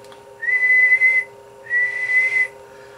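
A person whistles two sustained steady notes into a microphone to test a small two-tube 10-meter linear amplifier running into a dummy load; the whistles are clear and loud, with a short pause between them, over a faint steady hum.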